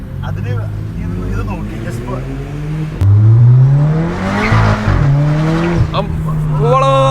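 A BMW F87 M2 fitted with a downpipe and a flame tune accelerates hard, its loud, close engine note climbing in pitch and dropping at each gear change over about seven seconds.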